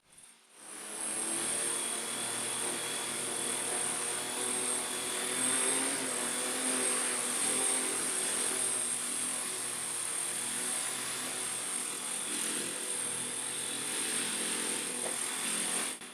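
A model V-22 Osprey tiltrotor flies with a steady, close, high-pitched rotor and motor whine that holds at a constant level throughout, alone.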